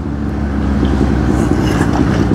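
A motorcycle cruises in sixth gear, its engine holding a steady, loud droning hum with road and wind noise wrapped around it.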